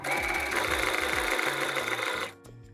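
A sewing machine runs an overcast stitch over the edge of the fabric: a steady, close, rapid mechanical whirr with a rhythmic needle pulse that stops abruptly near the end, leaving a few faint clicks.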